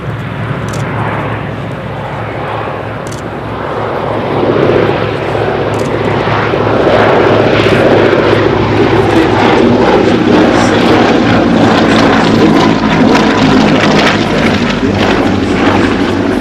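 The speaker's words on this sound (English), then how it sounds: "airframe covered with corrugated aluminum skin, but an aircraft which became the workhorse for an airline called Lufthansa." A corrugated aluminium-skinned propeller airliner flies at the Flying Legends 2015 airshow, its loud, steady piston engine drone swelling as it passes close overhead and holding strong throughout.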